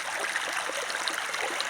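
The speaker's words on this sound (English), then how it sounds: "Creek's up just a little bit, just enough to get the water going." Clear Creek in Missouri, running slightly high, flows in a steady close-up rush and trickle of water, continuous and even with no voices.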